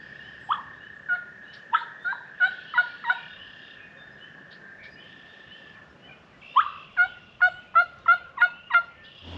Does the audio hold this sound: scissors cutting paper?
no